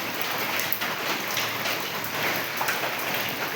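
Heavy rain pours down onto a metal sheet roof in a dense, unbroken roar that keeps the same strong level throughout.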